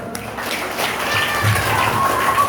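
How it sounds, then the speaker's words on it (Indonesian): Elementary schoolchildren at a traffic-safety outreach session clap together, a dense burst of many small hands that grows steadily over a couple of seconds, with faint crowd voices underneath. "tepuk tangan dulu."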